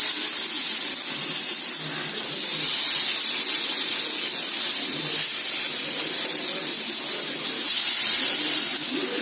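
Pomfret (vavval) fish frying in oil on a hot dosa tawa, giving a steady, loud sizzling hiss that holds evenly for the whole stretch with no talking.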